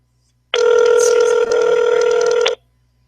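A telephone rings in one steady electronic burst lasting about two seconds, loud and close, with a brief dip midway and no voices over it.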